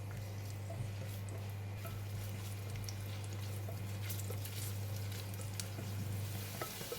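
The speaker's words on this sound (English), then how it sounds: "Today I'm going to fry my shallots in the pot" Shallots frying in hot onion oil in a pot, a soft steady sizzle and crackle that runs continuously and faintly under a low background hum.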